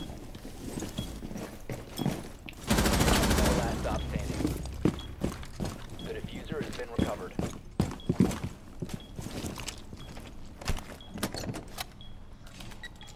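Gunfire from a first-person shooter video game, with a loud burst of shots early on followed by scattered sharp cracks and movement noises under game audio.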